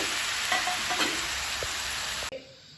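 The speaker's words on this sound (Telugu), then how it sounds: "ఇప్పుడైతే టమాటా ముక్కలు కూడా వేసేసుకొని కలుపుకోవాలి." Tomato pieces stirred into a frying potato curry with turmeric, a steady broadband sizzle under a few soft scraping stirs, close by, cutting off abruptly near the end to a quiet hiss.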